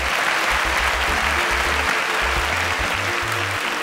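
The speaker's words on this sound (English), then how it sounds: "A round of applause for Jemima." Audience at an African STEM competition applauding a contestant, a continuous wash of clapping at steady loudness with a low rhythmic thumping underneath.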